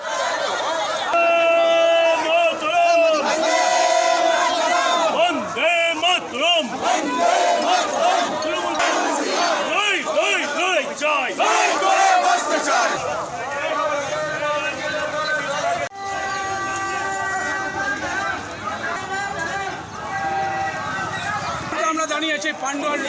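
Rally marchers on a road in Pandua, Hooghly, chanting slogans in loud rhythmic unison, a dense crowd of voices close by, with shouted calls and a leader's lines woven through the chorus.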